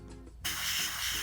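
A Harder & Steenbeck Infinity airbrush with a 0.15 needle and nozzle bursts into a steady, close, bright hiss of spraying paint after a brief quiet moment.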